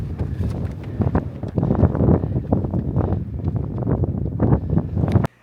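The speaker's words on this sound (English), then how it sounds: "That wind is kicking my ass." Strong wind gusts roar into the microphone during a long outdoor run, a loud, continuous buffeting rumble with uneven surges and no clear speech.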